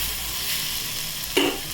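Cowpea vegetable being stirred with salt in a pan, a steady frying sizzle with a brief louder scrape of the spoon near the end.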